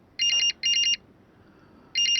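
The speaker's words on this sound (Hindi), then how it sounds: "घर से ही फोन है।" A telephone ringtone sounds in two rapid warbling bursts, a pause, then a third burst beginning, loud and close with no voices.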